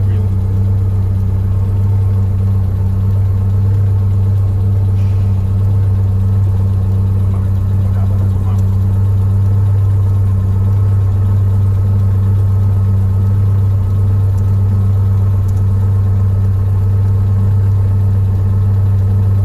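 A BMW 320i E21 with a MoTeC M4-tuned engine idles smoothly and steadily, a loud, constant low rumble with no revving across the whole stretch.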